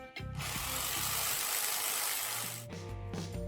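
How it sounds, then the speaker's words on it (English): Construction work next door on apartments produces a loud, continuous power-drill whine with rattling mechanical texture, broken by brief knocking sounds at the start and end, with no talk. "That's just drills and hammers. They are building some apartments next door"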